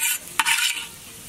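Cashews frying in ghee, a close, bright sizzle with a brief scrape and a louder burst partway through before easing off.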